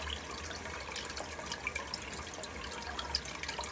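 Water trickles continuously inside a dual flush push-button toilet cistern that keeps running, a faint steady flow with small drips and a low hum underneath.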